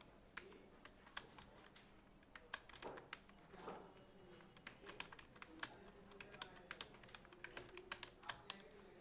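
Fingers tap steadily on a computer keyboard while Bengali text is typed, a run of quiet, irregular clicks with a few louder key strikes over soft room hiss.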